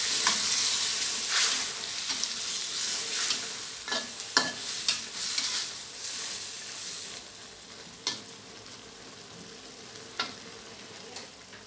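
Onion flowers and pork belly stir-fry in a hot pan, a steady close sizzle with repeated scraping and clanking of the spatula against the pan, tapering somewhat toward the end.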